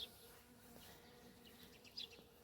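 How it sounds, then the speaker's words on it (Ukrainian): Faint buzzing of bees around a blooming barberry bush in May in Ukraine drones softly in a quiet outdoor setting, with a couple of brief bird chirps. "Бджоли гудуть"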